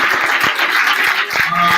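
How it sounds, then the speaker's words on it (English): Short burst of crowd clapping and cheering at a gathering, a round of applause with a few sharp individual claps standing out, loud and close. "So give a round of applause"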